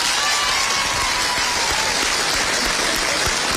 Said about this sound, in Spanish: Que se repite el aplauso